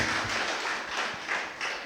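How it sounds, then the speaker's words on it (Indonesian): A church congregation applauds during a Sunday worship service, a continuous wash of many hands clapping at a steady moderate level with scattered louder taps, filling the room without speech. "Kita kasih tepuk tangan yang meriah bagi Tuhan."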